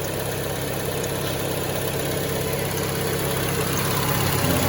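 A Peugeot engine idles in a junkyard with a steady, even drone and continuous low rumble, heard up close with no other sounds.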